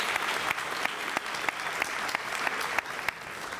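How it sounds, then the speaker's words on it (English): Audience applause for a philharmonic marching band at a civic State of the City event, a continuous crowd clapping texture with a few sharper individual claps standing out. "Let's give another round of applause to the Santa Clara Philharmonic Marching Band."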